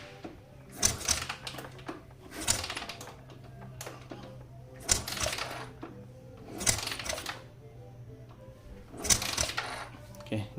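A Yamaha LC135 motorcycle with a no-start fault is kick-cranked five times in a row, each a sharp metallic clatter and whirr spaced about two seconds apart, with a low hum underneath and nothing catching.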